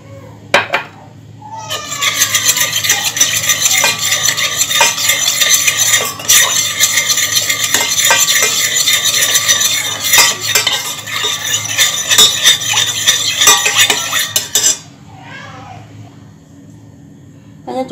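A whisk or spoon stirs baby rice porridge powder into water in a pot, making a rapid continuous clatter and scrape against the metal for about thirteen seconds, close and fairly loud, with brief quiet moments before and after.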